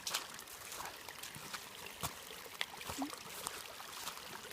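Continuous rushing of a mountain creek tumbling down a trail hillside, a fairly faint, even wash of water with small splashing accents and no one talking.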